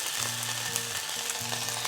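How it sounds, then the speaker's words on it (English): Zucchini slices hit hot oil in a pan, giving a soft, steady sizzle with crackling bursts, close and fairly quiet, with no one talking. "I'm just gonna place my zucchini down, and you know it's hot because it starts to sizzle."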